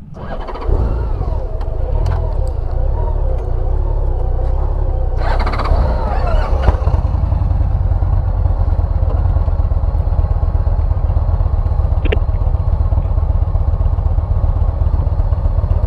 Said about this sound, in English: trying to see if we can get through this gravel here without dropping the bike